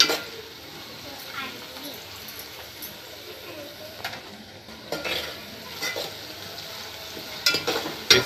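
Onions with a pinch of salt frying and being stirred in a pan, a steady soft sizzle with scraping and clinking of utensil against metal, louder stirring bursts near the end, with a voice talking faintly in the background.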